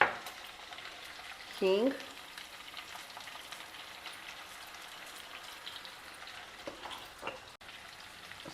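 Chopped vegetables with turmeric sizzle and fry steadily in a pan, a close, continuous crackle under a brief spoken word near the start.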